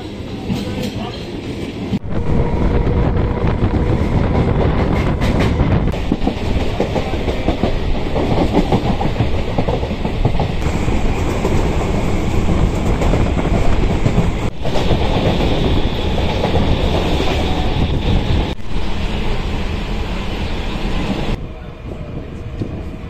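A train rumbles steadily on rails heading toward Ranaghat station, a loud continuous roar of wheels and carriages with brief dips, with no speech over it.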